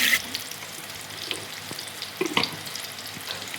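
Tomatoes added to softened onions fry in a pan for a Konkan wild mushroom curry, with a low steady sizzle and occasional stirring scrapes and clinks.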